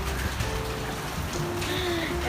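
Heavy rain pours steadily outside an office, a dense, continuous hiss and patter that stays loud and even throughout.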